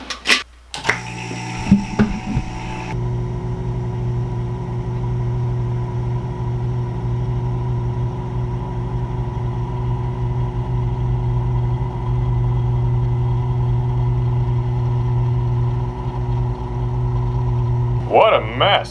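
A vacuum pump's steady mechanical motor hum drones on continuously at an even level while pulling a vacuum during fishing reel making, with a few clanks at the start and end.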